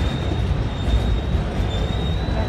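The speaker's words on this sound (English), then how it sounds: "I think I hear another train coming." A CSX freight train passes close by on the Rice Yard lead tracks, a heavy low rumble with a thin, high wheel squeal running through it.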